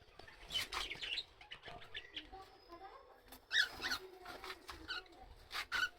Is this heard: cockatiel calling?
yes